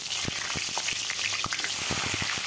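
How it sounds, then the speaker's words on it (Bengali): Potato pieces fry in mustard oil in a wok over a gas flame, giving a steady close sizzle with scattered sharp crackles and pops throughout. "আলুগুলো ভেজে নেব।"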